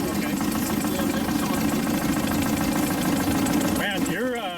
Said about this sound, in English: Your engine is exceptionally quiet.